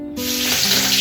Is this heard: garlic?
yes